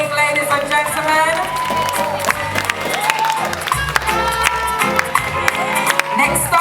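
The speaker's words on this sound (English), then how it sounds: "Keep the applause going" Applause and cheering from a pageant audience at a children's heritage queen contest, with sustained clapping and crowd noise filling the room between contestants, mixed with music or sustained tones and some voices.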